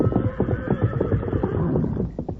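A horse whinnies as a sound effect in an old NBC Lone Ranger radio drama, with a steady, fairly loud neighing texture running through the short stretch and no voices.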